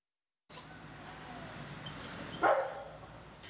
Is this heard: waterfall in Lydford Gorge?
no